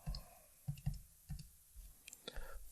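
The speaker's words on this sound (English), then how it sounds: "we go to our calculator" Calculator buttons are pressed in a quiet series of soft, separate clicks, some coming in quick pairs, with short pauses between presses and no voices.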